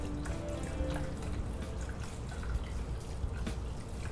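Water runs and trickles steadily into the tank of a Breville YouBrew coffee maker, a continuous close splashing pour with faint drips and no voices.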